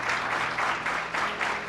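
A church congregation applauds during a sermon, with a dense, fairly loud burst of clapping that swells in a loose rhythmic pulse.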